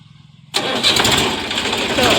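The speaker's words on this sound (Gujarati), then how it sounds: "ટ્રેક્ટર સ્ટાર્ટ કરી નાખ્યું" A tractor engine cranks and catches after about half a second, then settles into a loud, close, steady running rumble.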